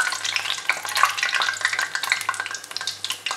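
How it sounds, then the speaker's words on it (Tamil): Banana chocolate balls frying in hot oil crackle and spit busily, with a dense, lively sizzle full of quick pops close to the pan. "இதை வந்து எண்ணெயில் போட்டு இப்போ வறுக்க போகிறோம்."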